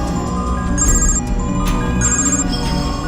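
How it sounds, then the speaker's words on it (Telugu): A mobile phone rings with an incoming call in a Telugu movie scene, its electronic ringtone sounding in repeated bursts over a steady bed of background sound, loud and close. "ఆడి ఫోన్కి డిఎస్పీ ఫోన్ చేస్తున్నాడన్నా"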